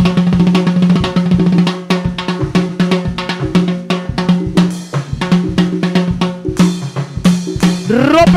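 Timbales struck in a loud salsa mix by the lead timbalero, rapid cracking hits and rolls riding over a dense band groove with bass and horns, steady throughout.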